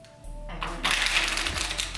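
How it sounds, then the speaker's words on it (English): A deck of playing cards shuffled during a party water challenge game, with a dense run of riffling card clicks that starts after a short pause and continues close and steady. "Go ahead and attempt to shuffle"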